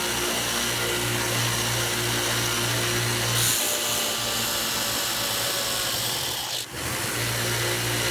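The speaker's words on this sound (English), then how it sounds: "for it to be able to grind that in just a matter of a few seconds" A 2x72 belt grinder running a worn-out belt against metal, giving a loud, steady grinding rasp over a motor hum, close up, with a brief dip near the end as the piece is eased off.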